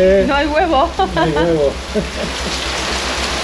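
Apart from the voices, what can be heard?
heavy rain falling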